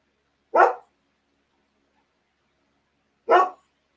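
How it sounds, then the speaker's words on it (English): A dog barks twice, each bark sharp and close, separated by a few seconds of silence. "Man, I wish this dog would stop barking all of a sudden."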